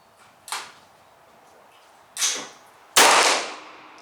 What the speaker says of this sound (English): are you back to shooting targets now?